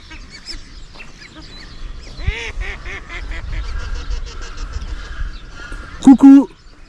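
Ducks and geese in a field at Trowunna sanctuary in Tasmania give a chorus of honks and quacks, with a loud close burst near the end, while a person speaks.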